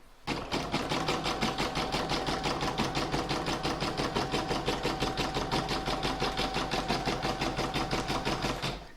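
An embroidery machine stitches an in-the-hoop scrappy heart design, a fast rhythmic chattering of needle strokes pulsing evenly throughout, close, loud and sustained with no voices.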